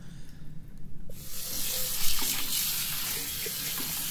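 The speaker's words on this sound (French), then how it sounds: "Un bon rinçage." Running water rushes into the tank of a 10-litre ultrasonic cleaner during a rinse, a steady close splashing hiss that starts abruptly after a second of quieter dripping.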